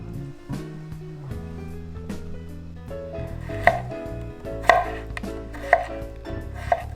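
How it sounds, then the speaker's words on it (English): A knife chops broccoli florets off the stem on a cutting board, a series of close, sharp chops that come irregularly at first and then more firmly, with no talking. "Stem off broccoli."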